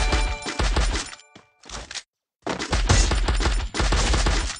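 Rapid bursts of automatic gunfire from the Free Fire video game, loud and close, in several dense volleys separated by short pauses and one brief silence.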